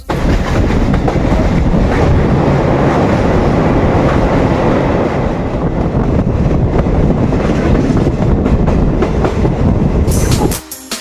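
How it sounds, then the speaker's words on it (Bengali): Silchar Kanchanjunga Express passenger train (13175, Sealdah to Guwahati) running, a loud steady rumble with rattling carriage noise and wind buffeting throughout, cutting off abruptly near the end. "আমি যেই ট্রেনে জার্নি করছি সেটা হলো শিলচর কাঞ্চনজঙ্ঘা এক্সপ্রেস"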